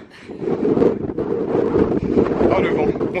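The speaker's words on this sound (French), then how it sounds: "Oh le vent." Strong wind buffets the microphone on a misty, grey hilltop in Ireland, a steady loud roar with gusts throughout, while a voice exclaims over it.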